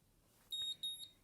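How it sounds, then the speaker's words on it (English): An e-marking device beeps as it receives a test imprint: two clear high-pitched electronic beeps in quick succession, close and fairly loud over quiet room tone. "You heard the beep beep, so that's now been received by my emark."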